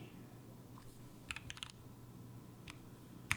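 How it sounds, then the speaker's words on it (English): Scattered keystrokes on a computer keyboard, a few quick clustered clicks then isolated taps, close and crisp over a low steady hum. "You can type on keyboards?"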